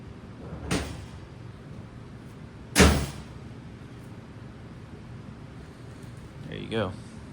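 A door being fitted onto a drag truck body gives two sharp knocks, the second a louder metallic clunk, then a softer rattle near the end, all close by over quiet background noise.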